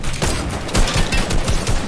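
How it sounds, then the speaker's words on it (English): Rapid video game gunfire aimed at a fleeing vehicle's wheels in a competitive trios match, with dense overlapping shots and sharp cracks in quick succession. "I'm shooting the wheels, got the wheel."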